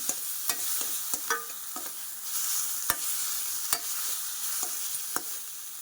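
Onion paste is stirred into a cashew and makhana curry, soft frying sizzle underneath and sharp intermittent clicks of a spoon scraping the pan, fairly quiet and close.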